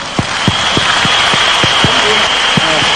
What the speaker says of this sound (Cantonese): 各位觀眾俾啲掌聲好嘛？